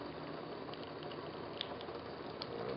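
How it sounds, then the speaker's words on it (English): Soft, continuous crackling sizzle of water in a ThermoVape vaporizer's heating core, with faint bubbling pops, quiet and close, with no voices. "I can hear it sizzling"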